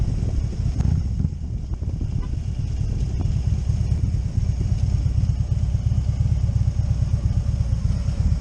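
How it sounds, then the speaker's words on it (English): A motorcycle riding off near Fairview Beach, Virginia, with a steady, deep engine rumble and wind noise close by throughout, and no talking. "Let's get on that bike, go back home."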